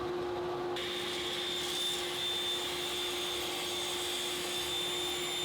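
A radial arm saw cuts through a box fitted with a dust collection shroud, giving a steady loud high whine and roaring suction with no talk.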